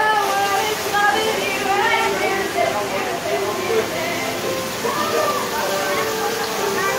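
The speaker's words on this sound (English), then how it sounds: "Notice the water coming out the floor." Water seeps and splashes up through the floor of a tiki bar during Tropical Storm Darby, a steady rushing, sloshing wash throughout, with people talking over it.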